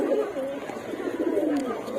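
Pigeons at a loft give soft, steady cooing close by, a low murmuring warble running through the whole stretch with slight rises and falls and no pauses.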